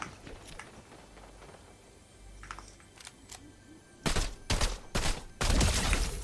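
Gunfire in a battle royale video game: a few faint, scattered shots early on, then several loud, sharp bursts of fire crowding the last two seconds, with no talk.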